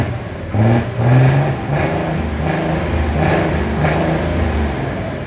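A Mercedes MB 1621 truck engine fitted with a K27 turbo revs up while standing still, with a steady, loud, rough mid-pitched roar, repeated throttle surges and a whirring turbo note over the top.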